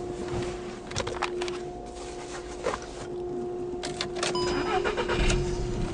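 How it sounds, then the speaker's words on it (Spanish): A 2012 Seat Ibiza engine cranking and catching, then running at a steady idle with a constant tone and a few brief mechanical clicks, heard close and alone. "El vehículo enciende correctamente"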